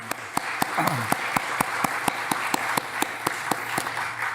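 Steady applause from a church congregation during a Sunday service, a continuous patter of many hands clapping with regular sharper accents, moderately loud and without talk over it.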